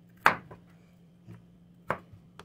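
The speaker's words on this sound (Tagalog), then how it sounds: "unahin nating hiwain ang ating mga ampalaya" Knife chopping bitter gourd (ampalaya) into large pieces on a cutting board, with four separate strikes: two sharp and distinct, two softer, spaced irregularly against a quiet background hum.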